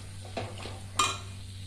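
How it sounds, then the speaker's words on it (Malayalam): Tomatoes stirred into softened onions in a pan for a paneer curry, heard as a few soft scraping strokes and a brief clink of the spoon against the pan, fairly quiet with no talk. "ഉള്ളിയിലേക്ക് നമുക്ക് ഈ തക്കാളി ഇട്ട് കൊടുക്കാം. അങ്ങനെ തക്കാളി ഇട്ട് കൊടുത്ത് ഇനി നല്ലതുപോലെ ഒന്ന് ഇളക്കി കൊടുക്കാം."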